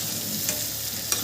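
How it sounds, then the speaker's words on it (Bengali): Hilsa bhapa cooking in a kadai, a steady soft sizzle with a couple of faint stirring scrapes over a brief moment, close and with no voices. "এটা আমার শাশুড়ি মা ইলিশ ভাপাটা রান্না করছে"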